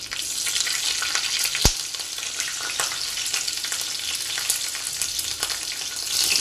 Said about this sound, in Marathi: कढीपत्ता नंतर त्याच्यामध्ये आपण मिरची टाकून घेऊयात।